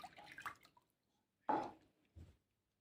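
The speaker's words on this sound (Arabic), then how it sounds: "نحطو 2 كيسان ماء دافي" Warm water, two 240 ml glasses' worth, pours into a bowl for making kesra flatbread, giving short splashing gushes in a quiet kitchen, with a burst near the start, a louder pour midway and a brief final splash.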